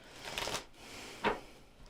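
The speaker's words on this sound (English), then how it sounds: "One more shuffle for Pisces." A deck of tarot cards is shuffled in two quick, soft riffling bursts, close to the microphone and faint in an otherwise quiet room.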